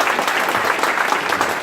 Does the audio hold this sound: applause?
yes